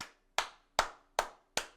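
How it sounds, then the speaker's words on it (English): Five slow, evenly spaced hand claps ring out sharply and close up, each followed by a brief decay, with silence between them and no talking. "round of applause"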